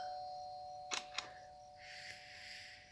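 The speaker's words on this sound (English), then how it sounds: "Ring the doorbell." A doorbell chimes twice in quick succession, fairly clear over a quiet room with a steady electronic hum, followed by a faint softer tone near the end.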